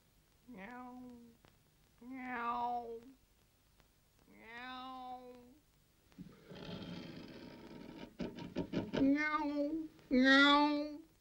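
A voice imitating a cat, giving several drawn-out meows in a British period drama, with rough noisy vocal sounds in the middle and two final meows.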